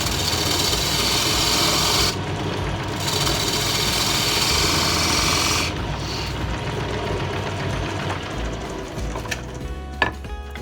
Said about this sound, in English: So, parting tool, I'm going to start cutting into that